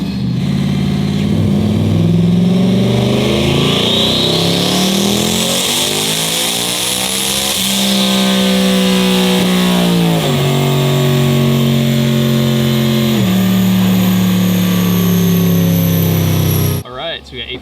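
A tuned 2024 Ford F150 4WD turbo with a 10R80 transmission revs hard on a dyno, its engine note climbing loudly through rising pitch and shifting gears near the mic before cutting off abruptly at the end.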